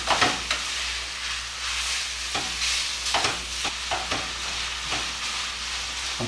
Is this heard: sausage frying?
yes